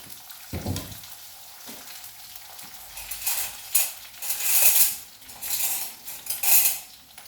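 Chopped onions, green chillies and crushed ginger and garlic are stirred in a hot pan for a fish curry, with repeated metallic clinks and scrapes of a spoon over a soft sizzle.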